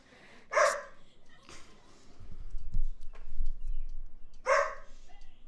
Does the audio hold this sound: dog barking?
yes